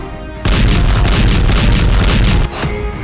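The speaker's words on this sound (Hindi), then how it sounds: "धमाके का पहला वीडियो" A loud, sustained rumbling explosion from war footage in Syria roars for about two seconds, deep and booming, then drops to a lower rumble.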